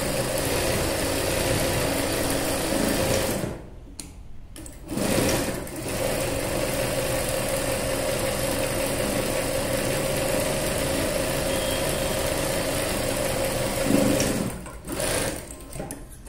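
A sewing machine stitches a boat neck dress, running in long steady bursts with a mechanical whir, briefly stopping and restarting twice near the middle and again toward the end.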